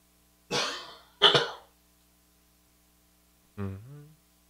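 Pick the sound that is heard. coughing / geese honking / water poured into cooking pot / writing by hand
coughing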